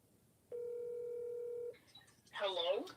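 A flip phone sounds a single sustained dialing tone for about a second, clear and close, followed by a short burst of fainter tones and then a voice speaking.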